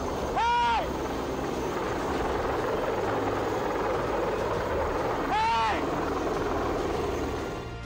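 Helicopter rotor wash over coral reef waters at Sandy Cay: a continuous loud thumping roar with wind noise, the engine pitch sweeping twice, near and dominant throughout.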